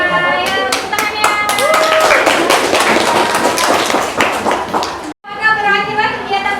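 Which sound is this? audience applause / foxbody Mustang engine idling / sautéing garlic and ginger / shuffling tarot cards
audience applause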